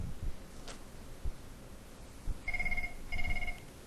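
A Cisco IP phone at a contact-center rep's desk rings for an inbound call, two short electronic trilling bursts heard close, preceded by faint rustling and handling noise.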